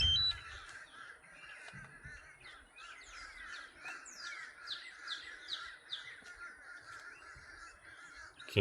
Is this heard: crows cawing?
yes